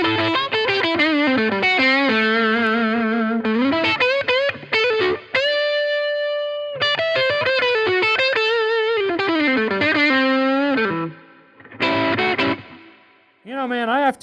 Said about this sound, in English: So now I'm going to kick on the analog alien bucket seat overdrive pedal